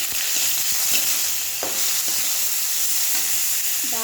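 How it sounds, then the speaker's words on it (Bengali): Cauliflower fries in a pan with a bay leaf and white cumin, loud steady sizzling broken by clinks and scrapes of a spoon stirring, with no talk. "একটা তেজপাতা, আবার কপিটা এটার মধ্যে ঢেলে দিই,"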